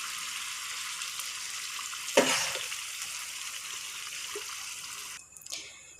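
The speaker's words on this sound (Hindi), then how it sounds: "वो पानी शामिल करेंगे हम इसके अंदर।" Meat broth from boiling beef is poured into broken rice for biryani, a steady close hiss of liquid with a brief louder splash partway through, then clatter at the end.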